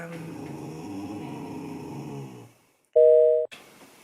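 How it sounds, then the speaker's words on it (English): Household dogs growl in a low, steady rumble for a couple of seconds, then let out one short, high, sharp bark or yelp up close before the background returns. "Sorry, my dogs."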